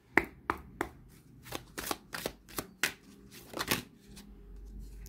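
Indigo oracle cards riffle and snap in a quick irregular burst of crisp slaps, close and alone, then settle into faint rustling.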